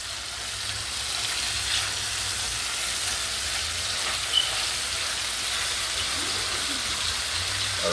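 Burger patties sizzling in a pan give off a steady, even hiss that sounds almost like rain, with no talking over it.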